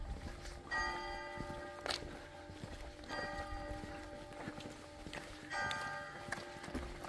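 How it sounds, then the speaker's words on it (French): Carillon bells of the church of Lefond ring in a melodic sequence of clear tones in three phrases, heard outdoors at moderate distance with footsteps and light ambient noise. "Avec un joli carillon de l'église de Lefond."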